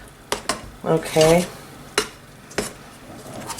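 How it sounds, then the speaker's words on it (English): A large spoon mixes and folds thick traditional British Christmas cake batter in a bowl, with scraping strokes and a few sharp knocks against the bowl, close by, and a brief word spoken partway through. "I'm going to incorporate that through, mixing and folding."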